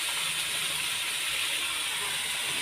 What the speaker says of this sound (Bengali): আর এদিকে দেখো ডালটা আমার ফুটে উঠেছে